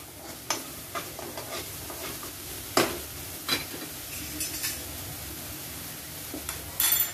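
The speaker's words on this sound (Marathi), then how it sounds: "यामध्ये मसाला चांगला भाजला गेला पाहिजे." Masala for crab curry sautés and roasts in a pan, a soft steady sizzle broken by occasional scrapes and taps of a stirring spoon, close and fairly quiet, with no talking.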